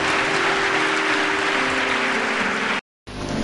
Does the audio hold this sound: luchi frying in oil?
no